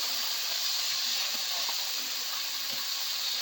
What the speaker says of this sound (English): our oil is going away, but the vegetables are shining. That means they can fry and not steam.